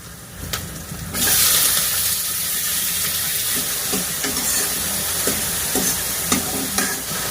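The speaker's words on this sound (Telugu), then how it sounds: "ఇప్పుడైతే టమాటా వేసుకుందాం." Chopped tomatoes hit a pan of frying onions and chillies for a mushroom and bean curry, and the sizzle swells suddenly into a loud, sustained hiss, with a spoon scraping and tapping at intervals.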